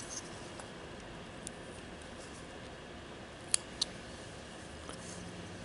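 A whittling knife nicks into a small wooden figure in a few faint, sharp cuts, two close together midway, against quiet room noise.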